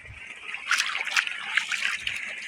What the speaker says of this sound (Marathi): पाण्यात धुवून घेते